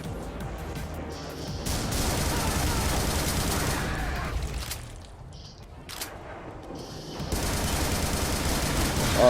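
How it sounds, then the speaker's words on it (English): Assault rifle fire in the brutal shooter Butcher, dense rapid bursts of shots over most of the stretch with a brief lull midway, loud and close, with heavy crashing impacts layered in. "Switch the assault rifle. It wants us to use the assault rifle"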